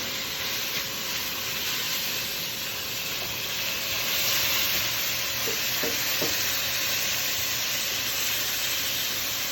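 Meat browning in a pan for a stew, two batches cooking at once, gives a loud continuous sizzle and hiss with a few soft scrapes of stirring underneath.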